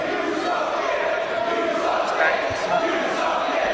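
A wrestling crowd in an arena roars and shouts in a dense, sustained wall of noise, loud and continuous, with indistinct voices mixed in.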